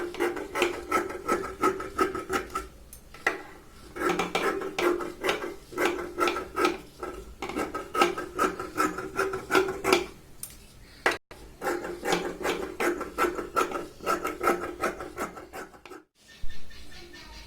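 Scissors cut golden fabric into bias strips for piping on a blouse back neck, producing quick rhythmic snips in close, regular runs, broken by brief pauses.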